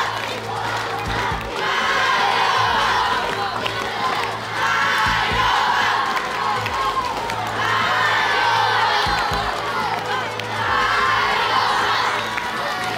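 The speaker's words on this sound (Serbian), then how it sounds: "I takmičari su počeli da navijaju." Contestants on a quiz game show cheering and shouting together, a loud sustained crowd roar rising in repeated waves of whoops and yells over a steady background hum.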